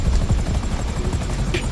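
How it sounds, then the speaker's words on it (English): A helicopter in GTA V sets down for a landing, its steady loud rotor thump and engine drone filling the whole moment with no voice over it. "you wanna land your chopper roughly around this area here"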